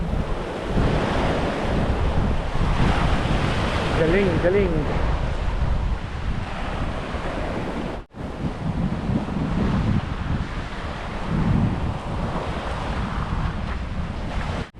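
Ocean waves roll and wash steadily against large rocks near a lighthouse, with strong wind noise buffeting the microphone, while a person talks briefly over the surf.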